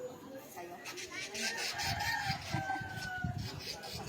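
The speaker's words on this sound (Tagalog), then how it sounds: "Ang aking ibon." Rooster crowing outdoors with clucking fowl around it, a fairly loud and steady barnyard sound lasting several seconds, mixed with a background voice.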